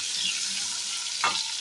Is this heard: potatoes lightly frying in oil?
yes